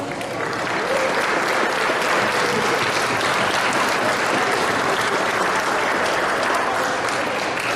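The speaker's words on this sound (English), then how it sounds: "give them a round of applause" Steady, loud applause from a crowd at a school athletic awards ceremony honoring club basketball players, a dense even roar of clapping that holds for several seconds without a break.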